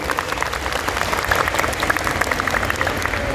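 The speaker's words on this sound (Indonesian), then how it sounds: "tepuk tangan yang paling meriah untuk Icon Mall Gresik" Audience at an Islamic religious lecture held at a mall applauding: a continuous wash of many hands clapping, moderately loud, with individual claps popping out and no speech.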